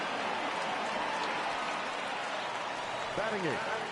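Stadium crowd in the baseball video game MLB The Show 20, a restless home crowd making a steady, hissing wash of murmur and noise under a commentator's voice.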